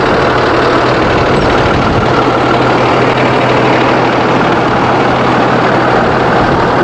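A Cummins 6.7 diesel engine in a 2019 Executive Coach Builders luxury shuttle bus idles steadily and loudly, a constant low rumble with a dense mechanical hum and no break throughout.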